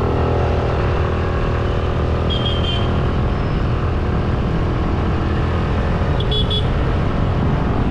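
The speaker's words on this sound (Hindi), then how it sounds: "सबसे पहले गाइस अपन इसका पिकअप टेस्ट करते हैं।" A 2023 Suzuki Avenis 125 scooter accelerates during a pickup test ride, giving a continuous loud engine drone mixed with heavy wind rush and no speech.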